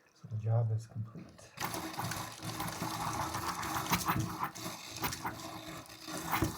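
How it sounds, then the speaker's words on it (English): Air trapped in bathroom sink water pipes after a shut-off valve repair, heard as a loud, continuous rattling and chattering rush of water that starts abruptly and keeps sputtering, preceded by a brief low hum. "that's the sound of air in the pipes"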